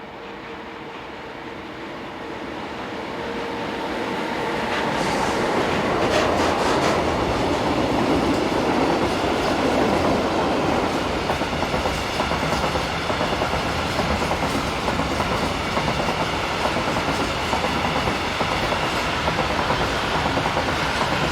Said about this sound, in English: it was the turn of DB Cargo's 185375 to pass our spot with northbound box wagons